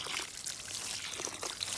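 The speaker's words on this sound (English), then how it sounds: "I'm going to kind of water towards the back so that it's not displacing my seeds" Water pours from a can onto dry soil in a tiered Greenstalk vertical planter, a soft, close, continuous trickle and splash running the whole short stretch with no talking.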